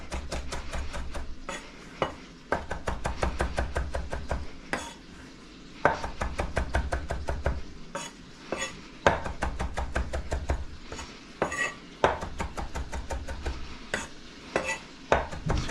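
Fresh sage leaves, bundled tightly, are finely minced with a knife on a cutting board: rapid, close, steady rhythmic chopping in bursts with brief pauses, no talking.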